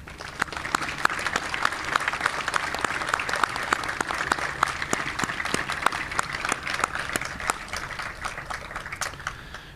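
Sustained applause from a crowd at a U.S. Army Special Operations Memorial Day ceremony honoring Gold Star families, dense steady clapping lasting throughout with a few sharper individual claps standing out.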